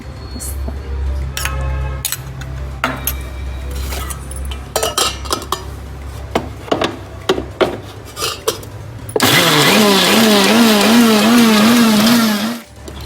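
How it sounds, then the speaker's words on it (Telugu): A mixer grinder whirs loudly as it grinds henna leaves with tamarind, a steady motor roar with a wavering pitch that starts after a stretch of clinking metal and utensil knocks, then cuts off abruptly. "మిక్సీ ఏం మెదగలేదు అస్సలు"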